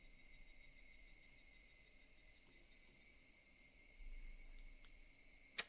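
Cicadas drone in Higurashi When They Cry, a continuous high, even buzzing chorus that holds steady throughout, fairly faint, with a low rumble swelling near the end and a sharp click at the close.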